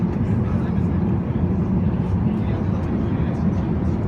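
Airplane cabin during level flight, a loud constant low engine and airflow roar filling the whole stretch without change.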